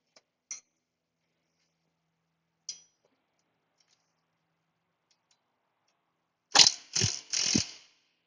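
A socket wrench ratchets in three quick clicking bursts near the end, after a few faint isolated ticks in otherwise quiet surroundings.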